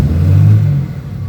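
A 2016 Ram 2500 with a tuned 6.7 turbo diesel engine revs briefly, a loud close low rumble that swells for under a second and then settles back to idle.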